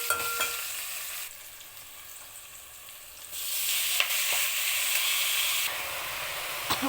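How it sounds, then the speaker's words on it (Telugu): A spoon stirs spinach into dal with turmeric in a pan, giving a steady frying hiss that swells and softens, marked by a few faint scraping knocks against the pan. "దీంట్లోనే పాలకూర అనేది వేసేసుకుందాం ఇలా కలిపేసుకుని"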